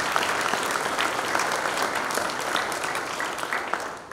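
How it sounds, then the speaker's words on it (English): Audience clapping at a July 4th church concert, a sustained wash of applause from a gathered crowd, steady throughout and tapering slightly at the end. "How about a round of applause for that?"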